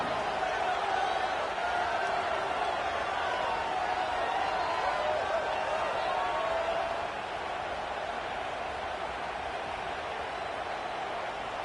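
Dense, steady roar of a large football stadium crowd cheering at an Ohio State versus Boise State game, sustained and loud throughout, easing slightly toward the end.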